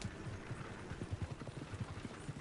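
Horse hooves clip-clop at a steady trot in Red Dead Redemption II, a quiet, even run of soft thuds over low background noise.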